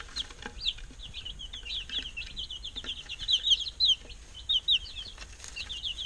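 Chicks peep in quick, high chirps all around, near and lively, a scattered run of bright calls over a faint rustling background with no talk.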